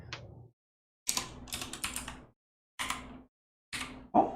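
Bursts of computer keyboard typing, entering text with an online Arabic keyboard, arrive in several short clusters separated by pauses, close and clear with no talk.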